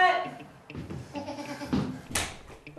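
A goat kept in a living room bleats amid busy indoor noise and talking, with a bump or knock partway through.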